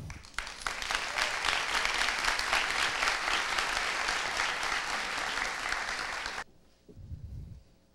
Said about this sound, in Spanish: Recibamos con un fuerte aplauso a Jacobo Tobar